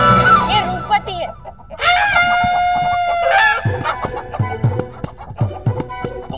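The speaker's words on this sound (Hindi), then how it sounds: "वसुदेव इधर आइए, ये आपकी मित्र अर्थात आपकी मुर्गी है।" A chicken clucks and squawks loudly near the listener, with a drawn-out crow-like call followed by a run of short rhythmic clucks.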